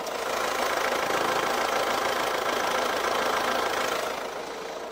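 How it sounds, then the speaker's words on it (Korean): A 1.6 diesel engine of an imported SUV idling, a steady close clattering hum with even diesel knock throughout, loud and unbroken. "엔진 소음 먼저 들려드리면은"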